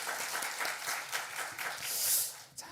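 A church congregation applauds at a Friday evening worship service, a moderately dense round of clapping heard at a modest distance that fades out near the end.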